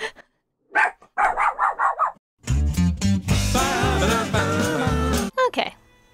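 A dog in the video game South Park: The Fractured but Whole barks and yips in short bursts, mixed with voices and a stretch of loud, busy game sound.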